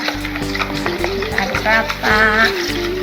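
Garlic cheese bread topping being stirred in a bowl, a repeated rhythmic scraping and mixing close by, with a voice talking over it.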